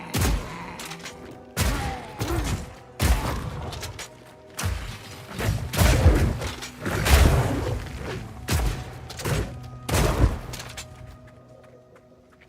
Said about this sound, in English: let him know I got some serious explosions